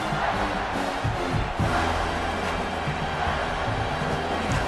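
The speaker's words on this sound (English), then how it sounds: "This crowd is trying to inspire this defense to make a big red zone stop." A stadium crowd in College Football 26 roars continuously as the defense faces a red zone stand, a dense, loud wash of cheering and yelling voices that swells slightly, with no commentary over it.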